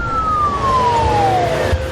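A loud ambulance siren wails close by, one long tone gliding steadily downward over about two seconds, heard alone without talk.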